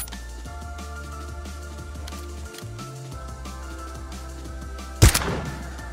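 A single sharp sniper rifle shot rings out near the end in PUBG, loud and close, over a steady background of game music and ambience.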